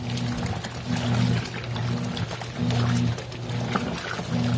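Laundry Alternative Poseidon washing machine with its agitator running, lid open: a steady churning, sloshing water sound with a low motor hum that pulses as the agitator swings back and forth, close and fairly loud, with no talking.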